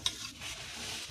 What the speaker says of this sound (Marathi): हे बघा तेल लावून अगदी खमंग असं भाजून घ्या।